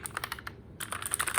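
Quick typing on a Corsair K70 LUX mechanical keyboard, a close run of sharp key clicks with a brief pause midway before the clatter resumes, no voices.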